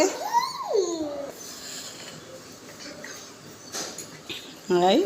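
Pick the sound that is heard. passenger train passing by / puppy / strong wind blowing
puppy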